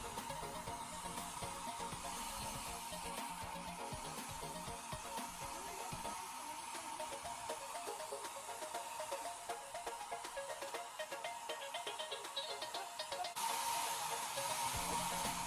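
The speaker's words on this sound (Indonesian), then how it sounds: "kita keringkan pakai hair dryer ya" A hair dryer blows steadily and loudly for the whole stretch, drying freshly shampooed hair, with its airflow tone shifting slightly as it moves around the head.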